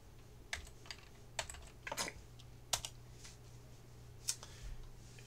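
Computer keyboard keys are pressed to enter AutoCAD 2010 commands, with scattered separate clicks and taps about a second apart, close and fairly quiet, over a low steady hum and no talking.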